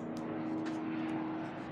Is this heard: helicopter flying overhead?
yes